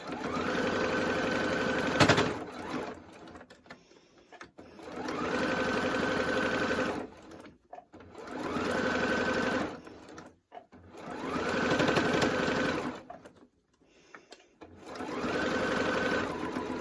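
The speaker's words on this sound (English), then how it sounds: "Just do a little locking stitch. And then just stitch all the way around." A sewing machine stitches fabric in several steady whirring runs of a few seconds each, separated by short pauses, close and clear.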